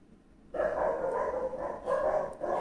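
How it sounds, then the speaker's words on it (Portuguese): Several dogs barking together nearby, a loud continuous burst of overlapping barks that starts suddenly and carries on with brief dips, no talk over it. "essa cachorrada é terrível."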